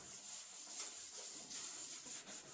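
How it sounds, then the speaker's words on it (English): Rust being scrubbed off an old stainless steel Weber grill with Bar Keepers Friend, a faint, steady rubbing swish in short strokes, close but quiet. "So I'm going to use a little bit of this Barkeeper's Friend and just see how it works to kind of clean this stainless steel up."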